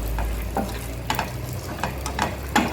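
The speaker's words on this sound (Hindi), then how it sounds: "अभी थोड़ा किशमिश और अखरोट था ना, इसको भी थोड़ा सा इसी के ही साथ में भून लेते हैं।" Cashews, raisins and walnuts roasting together in a pan for dhaniya panjiri, with a steady low sizzle broken by several sharp scraping stirs, close by and with no talking.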